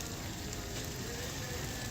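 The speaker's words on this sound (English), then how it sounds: "while this is starting to sizzle" A soft, steady sizzle of thick-sliced kielbasa frying in a pan hisses continuously, faint and even throughout.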